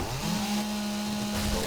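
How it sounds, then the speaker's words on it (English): Chainsaw in the 7 Days to Die survival game, a steady droning buzz with a sustained tonal whine running throughout, close and even in loudness. "There's a chainsaw."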